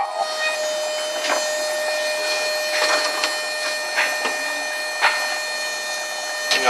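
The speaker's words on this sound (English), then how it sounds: "The noise is just because of the regulator" A CO2 pressure regulator on an engineering-class bubbler and filter rig gives off a steady mechanical whine with faint tonal lines, broken by intermittent short clicks and taps, close and moderately loud.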